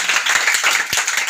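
Audience applause for young performer Samanyu Sachin Bhosale at a club event in Satara, a steady burst of many hands clapping with no voices over it.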